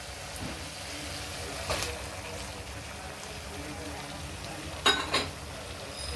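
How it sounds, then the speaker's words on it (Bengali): Pointed gourd and potato sautéing in a pan for a Bengali potol chingri curry, a steady low sizzle running throughout with a few brief stirring clatters. "পটল আলুটা দিয়েও আমি কষবো"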